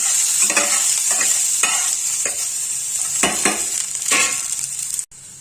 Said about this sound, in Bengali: আমি রসুনটা একটুখানি ফোড়নের মতো দিয়ে নিচ্ছি